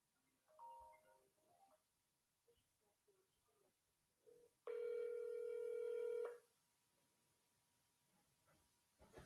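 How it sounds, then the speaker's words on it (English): A telephone keypad being hand-dialed while calling a number, with a long steady tone held for almost two seconds amid quieter clicks and background noise. "So let's get calling, hand dialing this to show you exactly how to do it."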